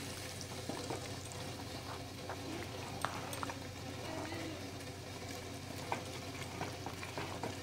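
Batter of besan (gram flour) being stirred in a pan to break up lumps while cooking zunka, a steady scraping and mixing texture with faint sizzling and soft clicks of the spoon, continuous and moderately quiet.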